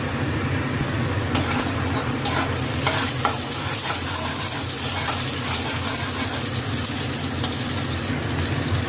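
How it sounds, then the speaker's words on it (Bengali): Nigella seeds crackle and sizzle in hot oil in a home kitchen for chhanar muitthya, a steady dense fry with a few sharper pops and scraping strokes throughout, close and fairly loud. "প্রথমে একটু কালো জিরে দিলাম"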